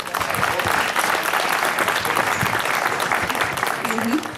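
An audience at a district-level school talent search event applauds after a student's Sanskrit speech, a dense, steady clapping that holds evenly for several seconds before tapering off, with a voice briefly audible underneath.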